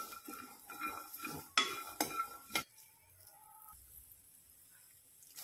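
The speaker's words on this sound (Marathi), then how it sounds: "मटार आपल्याला थोडीशी भाजून घ्यायचे आहे," Green peas dry roasting in a pan for a Maharashtrian matar amti, stirred with a spoon that scrapes and clinks sharply a few times before the sound settles into a quieter, steady rustle.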